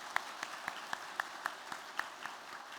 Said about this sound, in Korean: 수고하신 이분들에게 그동안 감사하는 마음으로 뜨겁게 박수를 해주시길 부탁드립니다.